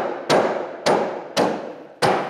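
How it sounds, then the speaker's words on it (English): Four sharp hammer taps seating glued wood pieces for a workbench, evenly spaced and close, each a crisp knock with a short ringing decay. "So these pieces are now floating against one another with a quick tap"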